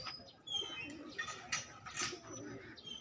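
A kept pigeon on a rooftop in a rural area coos softly in a few low, rolling phrases, faint and somewhat distant among quiet background sounds.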